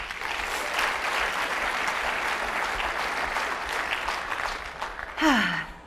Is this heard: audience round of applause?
yes